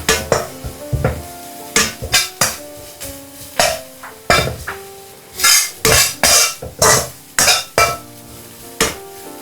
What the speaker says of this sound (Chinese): 葱姜蒜炒出香味后，加入1把虾皮，继续翻炒